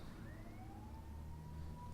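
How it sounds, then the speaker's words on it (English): A submarine alarm siren in Silent Hunter IV wails with a slowly rising, sustained tone over a steady low rumble, heard alone without any voices. "You can hear sirens going off"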